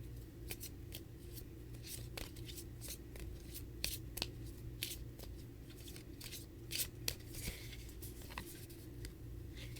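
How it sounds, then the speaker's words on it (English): Oracle cards shuffled by hand at close range, a rapid run of papery flicks and slaps repeating for several seconds over a steady low room hum, with no talk. "I'm going to pull an oracle card for you."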